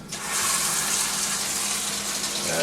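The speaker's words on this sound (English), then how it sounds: "We're just going to put some water in there." Water pours steadily onto a chicken bouillon cube in a kitchen, a loud, close, even gush of liquid lasting a few seconds.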